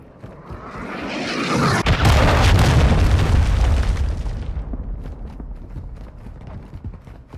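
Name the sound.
cruise missile strike explosion in Modern Warfare II video game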